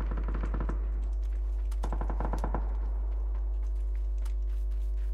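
Two rapid bursts of automatic gunfire from the shooter game PUBG Battlegrounds crackle over a low steady hum, the second burst following after a short pause, with no talking.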